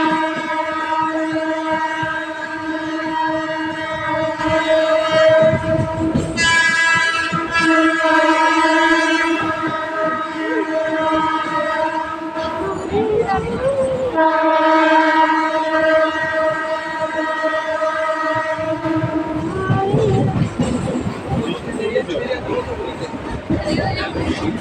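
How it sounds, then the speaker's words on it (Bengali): Inside a nearly empty local passenger train, a loud steady rumble runs throughout, with a long sustained horn tone and rattling carriage noise underneath. "আর এই ট্রেনটা আজকে ফাঁকাও, দেখো পুরো ট্রেনটা"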